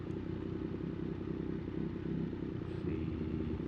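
A motorcycle engine revving out in second gear on a city avenue, a steady mid-pitched drone heard close and moderately loud throughout, with some clatter and no talking.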